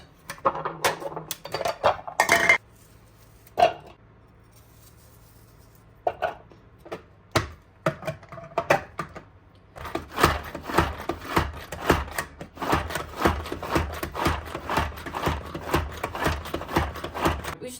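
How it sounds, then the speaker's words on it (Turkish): An onion is rubbed against a hand grater in a home kitchen, with a few scattered scrapes at first, then a steady rapid rhythm of close, crisp rasping strokes. "Önce soğanı şöyle rendeleyelim."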